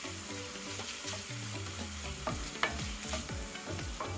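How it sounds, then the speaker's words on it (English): Ground pork and bell peppers stir-frying in a pan for Filipino-style spaghetti: a steady close sizzle broken by repeated scraping and clinking strokes of a utensil against the pan, with no talking. "When it starts to get semi-cooked, add in the bell peppers and stir for."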